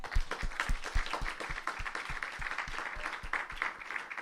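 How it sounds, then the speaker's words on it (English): An audience at an art screening applauds the artists, a dense continuous burst of many hands clapping in a room, moderately loud and steady throughout. "I want to give them one more round of applause."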